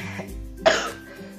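One short cough bursts out over a low background hum, close by, with no talking around it.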